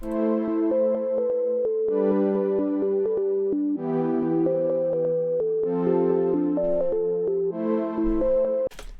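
A steady house music groove made in FL Studio 21, with a four-on-the-floor kick and a smooth sine-wave synth lead playing a repeating melodic line over chords.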